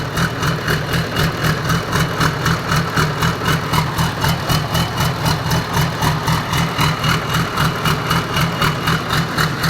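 A car engine idles steadily just after a turbo installation, a loud, close, even drone with a regular pulsing throb and no voices.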